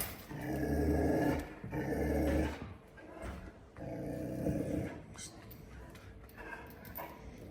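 A reactive Cane Corso on a leash growls and rumbles in low, rough bursts, close and moderately loud, with a handler's voice talking over and between the growls.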